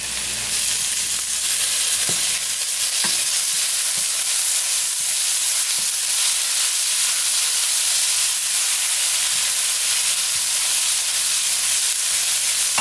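A tablespoon of minced garlic fries in a hot pan for Chinese lo mein, giving a loud, continuous sizzling hiss that holds steady throughout, with a few faint clicks of stirring.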